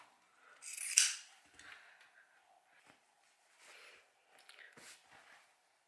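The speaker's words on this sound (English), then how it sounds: "I'm just going to trim them down, cut the ends off." Scissors trim thread ends on a sewn fabric dog bandana: one sharp, close snip early on, then a few softer, fainter cuts and rustles in a quiet room.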